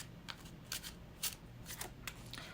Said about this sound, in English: let's put them right there and shuffle with intention